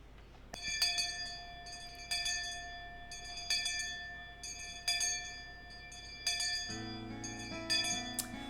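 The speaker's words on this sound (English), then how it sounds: "the last school bell always came too soon" A school bell chime in a visual novel: a series of clear, ringing metallic strikes, spaced about a second apart with long sustained tones, then a lower, fuller chord of tones near the end.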